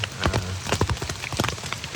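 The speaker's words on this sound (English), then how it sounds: "we had to hop in our tents real quick because it started hailing" Hail pattering on a tent at a mountain campsite, dense irregular taps and thuds close by, steady throughout with a few sharper hits.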